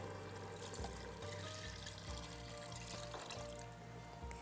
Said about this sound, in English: go ahead and add in the rest of our beef broth